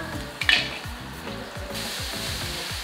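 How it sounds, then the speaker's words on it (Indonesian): Oil sizzles and crackles steadily in a hot pan, spattering, a bright pop or two near the start, with rhythmic scraping of stirring underneath. "aku tersakiti oleh minyak yang nyiprat-nyiprat"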